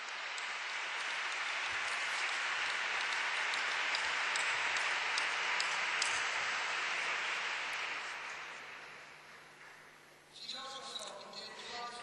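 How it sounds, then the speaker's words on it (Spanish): A lecture audience applauds a speaker with dense, steady clapping that fills the room for about ten seconds, then fades out and gives way to lighter room noise and scattered sounds. "Luego después hacemos un aplauso acumulativo a él. Bueno, lo hacemos ahora."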